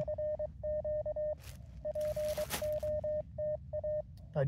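Morse code sidetone from an MTR-4B QRP transceiver beeps in steady, evenly pitched dits and dahs, with brief pauses and a faint background hiss, during an outdoor park radio session.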